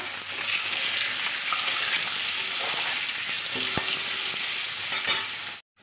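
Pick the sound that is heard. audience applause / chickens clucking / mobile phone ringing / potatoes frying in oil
potatoes frying in oil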